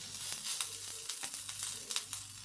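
Moong dal and green pea appam batter with corn kernels sizzles steadily in a hot appam pan, a close, continuous crackling fry with brief sharper pops scattered throughout.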